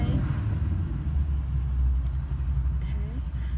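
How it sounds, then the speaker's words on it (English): Road traffic passes outside a shop front, a continuous low rumble of car engines and tires rolling by at moderate distance, steady throughout with no talk. "that's why you can hear the traffic going by"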